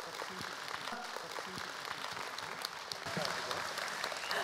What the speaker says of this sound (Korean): 박수 부탁드리도록 하겠습니다